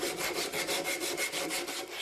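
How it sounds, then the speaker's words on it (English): Rhythmic rasping strokes of a rasp, file and sandpaper rounding over the tops of wooden furniture posts, about a dozen even scraping passes in steady succession, close and fairly quiet. "Round over the tops of the posts with rasp and file and sandpaper."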